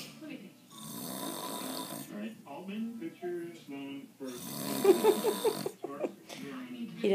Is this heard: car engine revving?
no